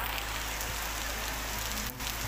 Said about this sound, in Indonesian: ternyata turun hujan cukup deras